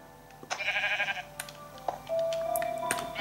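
Sheep in the Minecraft video game bleat in short, wavering cries, one after another, with small game sound effects in between and no talking.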